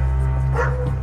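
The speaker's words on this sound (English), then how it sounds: "The dog is gonna give it away for you." A dog near a house gives a single short bark over a loud, steady low hum.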